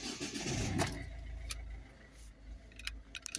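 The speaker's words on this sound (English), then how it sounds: "now we're going to start the car up" A Volvo C30 1.6 HDi diesel with a blocked particle filter cranks and starts, a steady low engine rumble settling in after a few sharp clicks and a brief key-like jangle, heard close with no talking.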